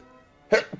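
A single short sneeze, sharp and close, with a softer catch of breath just after, over an otherwise quiet background.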